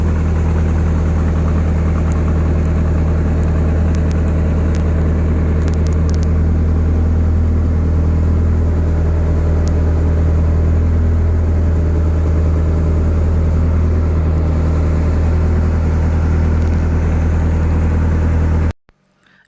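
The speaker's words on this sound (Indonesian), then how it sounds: "di atas perahu ini suara mesinnya itu besar sekali teman-teman" The engine of a wooden passenger boat heading to Sarappo island in the Pangkep islands roars loud and close as a steady, low, vibrating drone for nearly twenty seconds, then cuts off abruptly.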